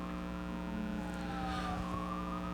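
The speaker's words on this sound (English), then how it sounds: "The sirens in the back." Sirens wail in the background under a constant droning hum, the rising and falling tone faint and partly buried.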